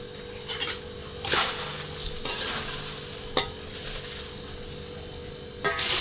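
Poha chivda being tossed and stirred with salt and chivda masala in a pot, with a steady rustling scrape, a few sharper clinks of the utensil against the metal, and no talking.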